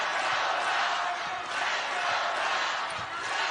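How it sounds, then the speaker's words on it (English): A partisan crowd at a women's college basketball game featuring Sabrina Ionescu keeps up a loud, continuous, roaring cheer that swells slightly and then settles, with a commentator's voice faintly underneath. "Significantly partisan crowd."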